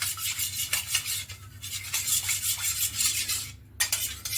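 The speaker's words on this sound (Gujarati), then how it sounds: "તો આ રીતે આપણે મિક્સ કરી લેવાનું છે" Khaman dhokla batter is stirred in a bowl, giving a close, continuous scraping and swishing with rhythmic strokes and a brief pause near the end, no voices.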